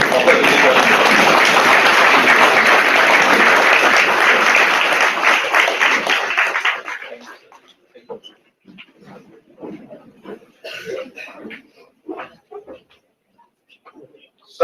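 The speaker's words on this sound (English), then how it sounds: "give a round of applause to mark the august presence of a visitor" A hall audience gives a sustained round of applause for the Governor of Tripura at a university felicitation, loud and dense for several seconds before fading into scattered claps and murmuring.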